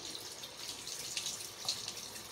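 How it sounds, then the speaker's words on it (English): Tap water runs steadily into a sink while a finger is rinsed, a continuous close splashing hiss with a few brighter spatters and no talk. "I'm gonna rinse my finger off."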